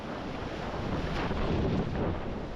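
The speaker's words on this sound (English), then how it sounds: "Oh, that was a big and strong wave." A big, strong ocean wave crashes on the Portuguese coast, a broad, loud roar of surf churning in a short burst, with heavy wind buffeting the microphone.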